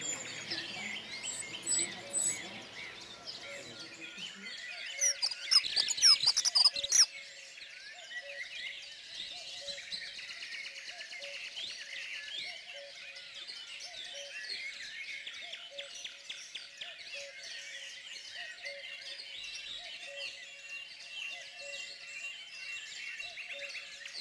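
A dunnock sings a thin, high warbling phrase, then repeats short chirps at a steady rhythm against a quiet background, in Côtes d'Armor.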